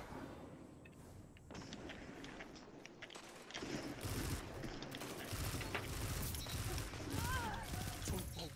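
Video game gunfire crackles in dense bursts that start sparse and grow into a loud, steady barrage during the second half, with clatter and mechanical clicks mixed in.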